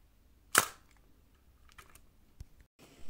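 Shutter of a Kiev 19 film SLR camera firing, one sharp loud mechanical snap followed by faint clicks and handling noises in a quiet room.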